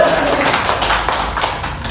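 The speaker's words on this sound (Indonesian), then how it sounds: "Beri tepuk tangan buat kelompok" A classroom group applauds a presenting student group at the end of their presentation, a dense steady patter of many hands clapping close by, filling the whole moment without speech.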